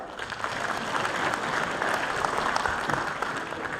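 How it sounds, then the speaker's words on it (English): Sustained applause from an audience at a university graduation ceremony, steady dense clapping filling the room throughout with no gaps. "You can clap."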